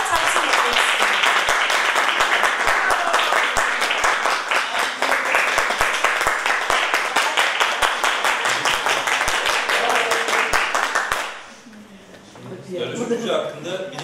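An audience at a neurosurgery talk gives loud, dense applause to the speaker, an associate professor. The clapping goes on for about eleven seconds, then stops abruptly and a voice starts speaking.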